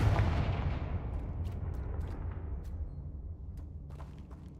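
The Confringo spell in Hogwarts Legacy lands as a heavy, booming blast that fades out over several seconds, a deep rumbling explosion with no talk over it.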